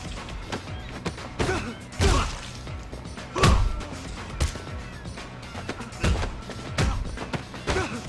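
Melee combat hits in the video game Triad Wars, with a steady run of thuds, whacks and heavy impacts at irregular intervals over a constant busy game background.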